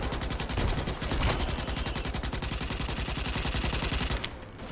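Heavy automatic weapons fire rattles almost without pause in Starship Troopers: Extermination, dense overlapping shots pounding out loud and close before easing off at the very end.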